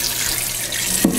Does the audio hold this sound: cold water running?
yes